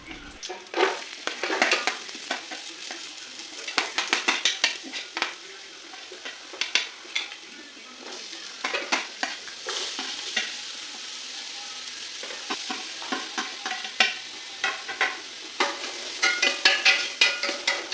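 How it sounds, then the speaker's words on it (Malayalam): Cut vegetables stir-frying in hot vegetable oil in a pan for restaurant-style Hakka noodles, a continuous crackling sizzle with frequent scraping and tossing strokes, close and lively, no voices. "ഓയിൽ അല്പം ചൂടാകുമ്പോൾ നമ്മൾ കട്ട് ചെയ്ത് വെച്ചിട്ടുള്ള വെജിറ്റബിൾസിലേക്ക് ഇട്ട് കൊടുക്കുക"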